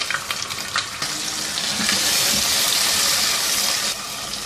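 Chicken pieces frying in a pan for arvi (taro) chicken curry, a loud, dense, continuous sizzle with scattered crackles and pops, close and without voices.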